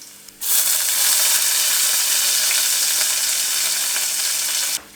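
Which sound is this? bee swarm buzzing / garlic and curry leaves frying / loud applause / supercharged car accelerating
garlic and curry leaves frying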